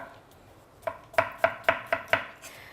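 A knife chops cucumber on a board, six crisp, evenly spaced strokes after a light first tap, close and clear with nothing else heard.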